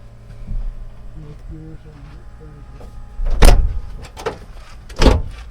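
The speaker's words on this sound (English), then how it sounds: "I'm going to open the door." A Sprinter van's sliding door is unlatched and slides open with two heavy thuds and a rumbling roll, close by, over a low motor hum.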